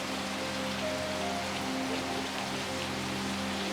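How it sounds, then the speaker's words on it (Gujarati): Steady rain falls and patters on surfaces in a village setting, a soft, even hiss without pauses and no voices. "હવે તો આ વરસાદ બંધ થાય ને તો સારું છે."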